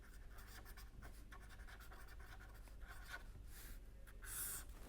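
Chalk or marker writing on a board during a lecture on the HMM backward algorithm, a run of faint scratchy strokes in quick irregular rhythm with a brief louder rub near the end, no talking.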